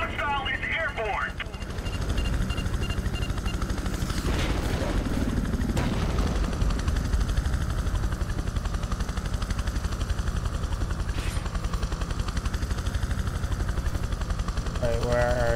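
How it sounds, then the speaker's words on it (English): A helicopter's rotor in the video game Prototype 2 thrums loud and continuous, with a constant low drone and occasional bursts of noise while voices talk over it. "Hostile is airborne. Shoot that chopper down."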